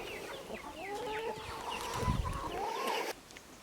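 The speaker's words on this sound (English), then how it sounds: "So here in these cages I keep my broody hens." Broody hens kept in cages cluck and murmur close by in a steady run of short, overlapping calls, with a brief louder scuffle near the end before it drops quieter.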